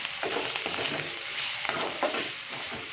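A paneer pulao spice mixture with red chilli powder and coriander powder sizzles steadily in a pan, with close, continuous frying crackle and soft stirring scrapes.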